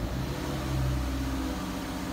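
A 2021 Subaru Crosstrek's engine runs with a steady low idle hum, close and continuous for the whole stretch, with no voices.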